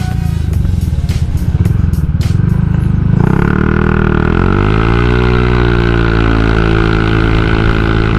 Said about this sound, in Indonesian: Gue penasaran, cobalah gue geber.